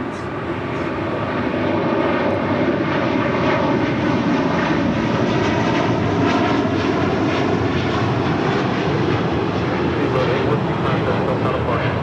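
A fixed-wing airliner landing at LAX produces a loud, steady engine roar that holds without a break, close and unbroken from start to finish.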